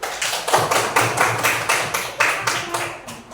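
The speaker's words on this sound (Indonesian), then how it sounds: "mana tepuk tangannya dulu?" A class of students in a Hindu religion lesson claps together in a crisp, regular rhythm, with sharp group claps repeating about three times a second. The clapping is close and fairly loud.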